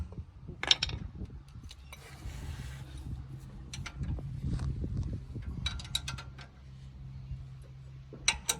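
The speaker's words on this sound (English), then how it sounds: "Good to have a ratchet spanner." A ratchet spanner clicks in short bursts while tightening a bolt on a Toyota Hilux, faint and close, with scattered metallic taps and rubbing between the ratcheting runs.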